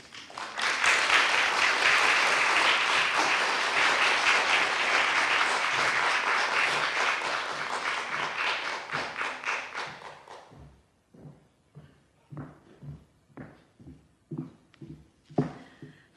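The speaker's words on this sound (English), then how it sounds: "Please give a warm round of applause to Deb Olin Unferth." Audience applause at a literary evening event for an author, a loud, dense sustained round of clapping that thins after about ten seconds into scattered individual claps and a few final loud ones.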